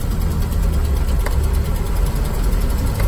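A 1988 Land Rover Defender 130 V8 climbs a hill in second gear, its engine a steady, heavy low drone with a constant labouring rumble heard from inside the vehicle.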